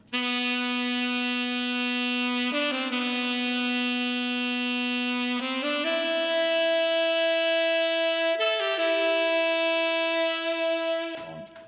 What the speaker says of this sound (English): The coolest part in my opinion is the saxophone that comes in at bar 9, and this is a live saxophone.